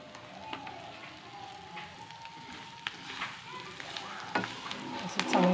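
A spoon works through a sesame and coriander mixture for kothimbir vadi, giving a steady soft scraping hiss with a few sharper clinks, close and fairly quiet throughout.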